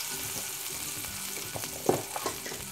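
Garlic paste fries in a pan with a soft, close, steady sizzle. A few quiet stirring knocks come near the end, and there is no talk.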